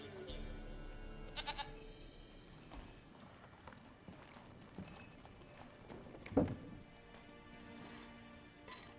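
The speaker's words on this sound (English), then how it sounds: "Ooh, that goat is being fed." A goat in The Witcher 3 gives a short, faint bleat partway through against quiet game ambience, along with soft animal and hoof-like clatter.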